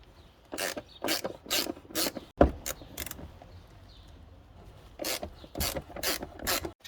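Ratchet clicks on shock mount bolts while an Audi A7 Quattro Prestige shock absorber is being removed, heard as several short bursts of rapid clicking with a sharp knock between them, close by and moderately loud, with no talking.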